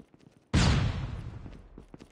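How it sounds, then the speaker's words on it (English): A flashbang grenade in a multiplayer shooter game bursts suddenly after a quiet moment, a loud close blast that decays over a second or so. "Flashbang!"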